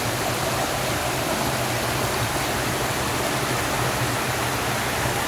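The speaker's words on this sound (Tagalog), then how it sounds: "Ang ganda ng falls dito." Waterfall at a trail site in General Tinio, Nueva Ecija, roaring as a steady, loud, dense wash of falling water with no pauses and no voices throughout.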